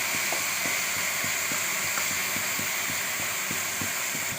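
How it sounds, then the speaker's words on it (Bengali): Poppy seed and cashew paste fries in a pan while being stirred, making a constant loud sizzling hiss broken by regular soft scrapes of the spoon. "দেওয়ার পরে আমি একটু ভালো করে নেড়ে চেড়ে ভেজে নেব"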